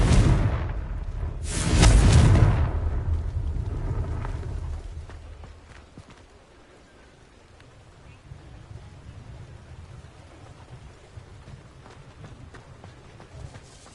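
A Confringo spell blast in a Harry Potter video game bursts out as a loud, deep boom near the start, then fades into a low rumbling ambience.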